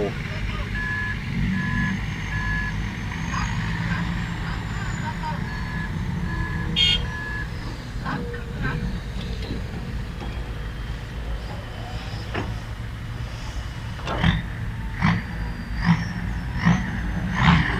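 A turbocharged diesel engine in a SANY 215 backhoe idles and revs steadily outdoors, with a rough low rumble, scattered clanks and short beeps toward the end.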